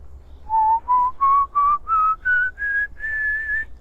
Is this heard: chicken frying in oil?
no